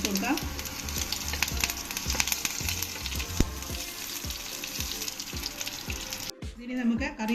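Curry leaf sprig dropped into hot oil with green chillies and onions for Kerala pumpkin tamarind curry, crackling and sizzling steadily up close with sharp popping bursts, then a brief drop-off before the frying resumes.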